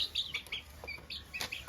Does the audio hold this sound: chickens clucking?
yes